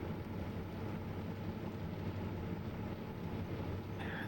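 An old, rattly Citybus I280 drives in the OMSI 2 bus simulator game, a continuous loud low rumble and droning engine with steady rattling throughout, without talk.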